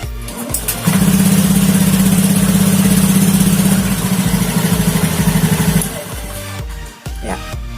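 A motorcycle engine fitted with a hidden anti-theft switch cranks, catches and settles into a loud, close, even idle, then cuts off, leaving a few small clicks and knocks.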